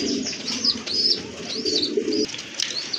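Yellow Bombay pigeons coo repeatedly in low rolling murmurs, fairly close, with higher chirps and bird noise mixed in.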